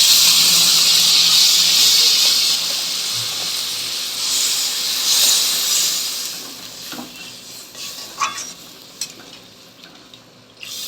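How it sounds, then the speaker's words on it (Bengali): Water hits hot fried masala and potatoes in a pan for a boyal fish kalia, a loud rushing hiss of steam that fades over several seconds into quieter bubbling with a few stirring knocks, close and without talk. "এবার আলুগুলো দিয়ে আবার একটু ভালো রকম কষিয়ে তারপরে জল দিয়ে দেবো"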